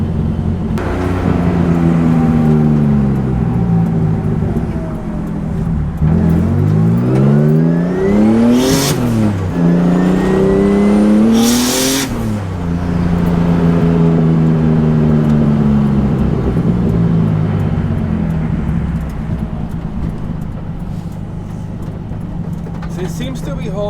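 A turbocharged car fitted with R8 coils accelerates hard under about 15 psi of boost in first gear, its loud engine note sweeping up in pitch through repeated gear pulls, close and continuous from start to finish.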